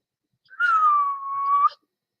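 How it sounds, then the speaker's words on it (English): A person gives a single unconscious whistle lasting about a second, a clear pitched tone that dips slightly and rises at the end, close and distinct in otherwise quiet surroundings. "Oh, I just whistled."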